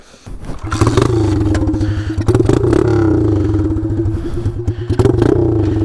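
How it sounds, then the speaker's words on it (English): A pit bike engine with open straight-pipe exhaust idles roughly and loudly up close, its raw burble sputtering and blipping unevenly. "This bike doesn't really want to idle though with the open exhausts."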